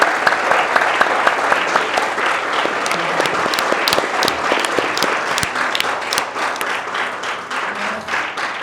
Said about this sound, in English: Round of applause for those two.